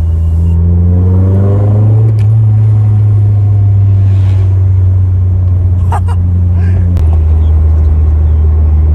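A Nissan S13 240SX with a loud, cheap aftermarket exhaust, resonator still in place, revs up and settles into a deep, rumbling idle, with a second throttle blip near the end.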